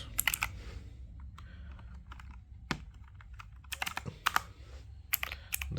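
Fast bursts of typing on a budget Intex Caliber Plus wireless mechanical keyboard with blue switches, giving close, crisp clicky keystrokes in uneven clusters separated by short pauses.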